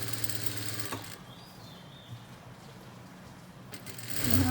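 A sewing machine stitches the seams of a long frock, running in a steady soft mechanical whir and rattle with brief stops and starts, fairly quiet and close, with no talking.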